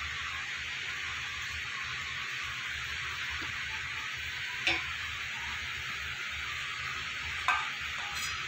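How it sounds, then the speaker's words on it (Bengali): Bread gulab jamun balls fry in oil with a soft, even hiss of bubbling, broken by two faint clicks partway through. "এই বলগুলো আমার ভাজা হয়ে গেছে"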